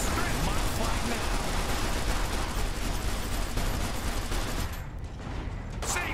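Machine gun strafing fire in the Iron Harvest war game rattles in a loud, dense, unbroken stream of rapid shots, thinning out briefly near the end, with voices faintly mixed in.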